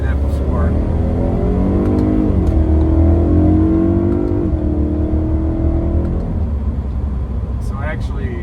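A tuned BMW E90 M3 ZCP pulls hard uphill, its engine note climbing steadily through a long acceleration with a dip and recovery, loud and close from inside the car, with someone talking over it.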